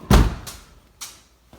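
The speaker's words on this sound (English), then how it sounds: "open my car door right into the Miata" A car door thumps open against a neighbouring Mazda Miata in a hot garage, one loud close thud followed by two fainter knocks.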